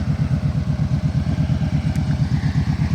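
A Kawasaki Vulcan Voyager motorcycle engine idles up close with a steady, rhythmic low thumping that holds evenly throughout, with no talking.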